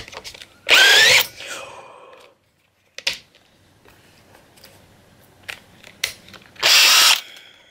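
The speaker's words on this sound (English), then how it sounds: "I was countersinking the hole with a bigger drill bit" A power drill countersinks a hole with a larger bit, sounding in two loud bursts with a quiet gap between them and scattered knocks and clicks from the work.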